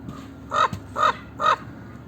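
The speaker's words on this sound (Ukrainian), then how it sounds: "Тупо ворон на 3 кілограма," A large crow perched on a roof gives three evenly spaced, harsh caws in a steady rhythm, fairly close and clear over a quiet outdoor background, with no one speaking.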